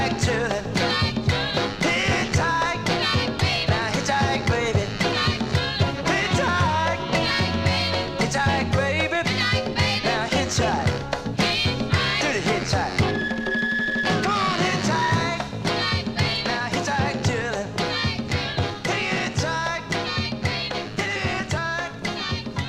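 A Motown soul single plays loud and continuous, a driving full band beat with lead vocal and backing vocals throughout.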